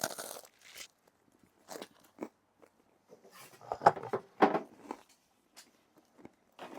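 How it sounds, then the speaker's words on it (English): Dry, crisp crunches from someone biting and chewing a bread crust come in short bursts with quiet pauses between, close to the ear and alone without talking. "Yes, I'm eating the crust. Yes, it makes a crunching noise."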